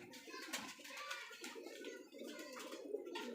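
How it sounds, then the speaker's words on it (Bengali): Rajshahi giribaj pigeons coo close by in a continuous murmur of soft calls, with light rustling and faint background voices mixed in. "লীল নটা ডাকছে"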